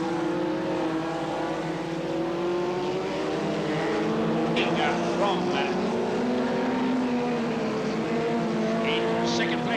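Stock cars and caravan-towing racers roar around an oval race track in a continuous loud drone of several engines, with a commentator talking over the racing throughout.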